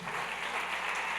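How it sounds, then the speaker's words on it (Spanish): A church congregation clapping hands during worship, a dense, steady wash of many hands at moderate loudness throughout. "Dele palmas al Señor."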